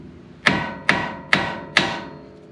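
Hammer taps on a rusty ball joint of a 2008 Ford F-250, four sharp metallic strikes evenly spaced about half a second apart, close and ringing briefly, with no talk.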